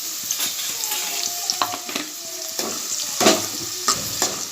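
Onions and curry leaves frying in hot oil on a full flame for kanda pohe, a steady close sizzle broken by scattered clinks and scrapes of a stirring spoon against the pan.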